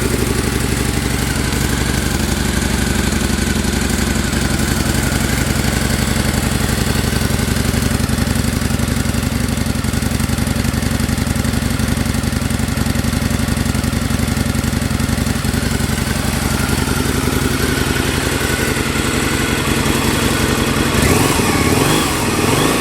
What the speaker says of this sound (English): this is what the current exhaust sounds like